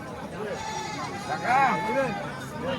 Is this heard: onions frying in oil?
no